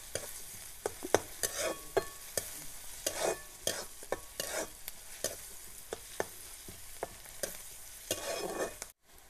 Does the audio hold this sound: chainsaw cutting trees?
no